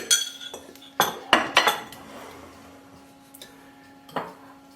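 A spoon scoops three tablespoons of sugar into a cup for Cuban coffee: a few sharp metallic clinks, spaced irregularly, close by in a quiet room.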